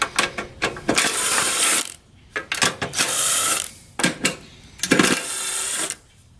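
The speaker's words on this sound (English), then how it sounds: "I'm just going to use an impact gun because I'm trying to be quick here" Impact gun on a lawn mower zips off gas tank screws in several loud, close, rattling bursts about a second each, separated by short quiet gaps.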